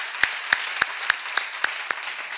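At a church seminar, about nine sharp claps land in an even, steady beat, each clearly separate, with quiet gaps between them.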